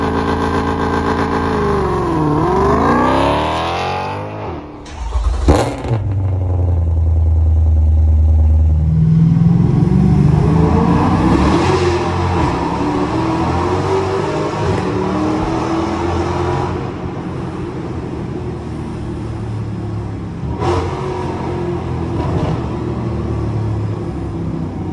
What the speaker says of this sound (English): driving behind his car with this exhaust system, and this sounded so good